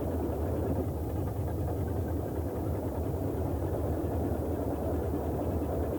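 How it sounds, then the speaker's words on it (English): The left radial engine of a Boeing 247D runs in the MSFS 2020 flight simulator, a steady, dense, rumbling drone that holds an even level throughout, with no voices. "And now we have a good start on the left engine."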